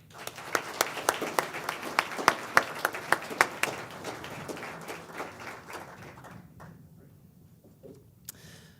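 An audience at a Phi Beta Kappa ceremony at Indiana University's College of Arts & Sciences applauds to welcome a speaker, a dense burst of clapping with a few sharp individual claps that thins out and fades after several seconds.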